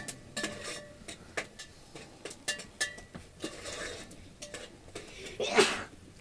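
Soft clinks and taps of kitchenware tick along steadily, then a single short, sharp sneeze bursts out near the end, in a rural household where goats are kept.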